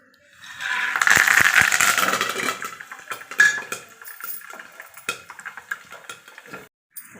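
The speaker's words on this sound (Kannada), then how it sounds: "ಇವಾಗ ಎಣ್ಣೆ ಬಿಟ್ಕೊಂಡು ಪಾನ್ಗೆ ಕಡಲೆ ಬೀಜ ಮತ್ತು ಕರಿಬೇವಿನ ಸೊಪ್ಪು 2 ಹಾಕೋತಾ ಇದ್ದೀನಿ" Peanuts and curry leaves are dropped into hot oil in a pan, producing a burst of crackling and spattering with a rattle of nuts, followed by clinks of a spoon and quieter sizzling.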